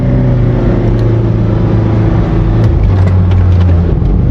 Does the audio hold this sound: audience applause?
no